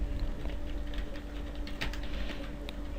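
Key clicks from a computer keyboard, capital letters being typed while entering text in a PHP coding session; a steady patter of light taps at close range over a constant electrical hum, with no voices.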